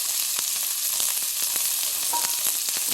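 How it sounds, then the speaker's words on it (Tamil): Onion, chana dal and green chillies frying in a pan, a steady, bright sizzle with scattered pops and occasional stirring scrapes, close and continuous with no talking. "போட்டு பாருங்கள், நல்லா வதக்குறேன்."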